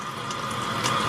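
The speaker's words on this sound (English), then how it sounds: "It says to make a cold stream of water." Cold water runs steadily from a kitchen tap into a sink fitted with a garbage disposal, a continuous close hiss lasting about a second with no talk.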